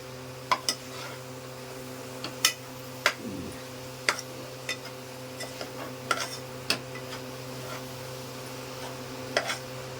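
A spoon stirs melting jaggery syrup in a pan while coconut sweets are being made, giving sparse, irregular clinks and scrapes against the metal over a soft, steady background hum.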